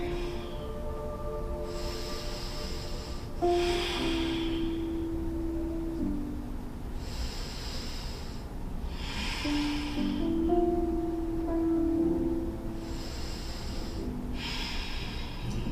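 Slow, deep yoga breaths with the knees hugged to the chest, several long hissing inhales and exhales in a steady rhythm, close and clear over a soft, sustained background tone.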